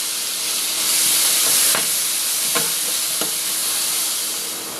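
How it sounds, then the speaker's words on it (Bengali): Onions fry in hot oil in a wok with a loud, steady close sizzle, broken by three or four knocks of a utensil against the pan; no voices. "তার জন্য আগে দিয়ে দেব পেঁয়াজগুলোকে আগে ভালো করে ভেজে নেব।"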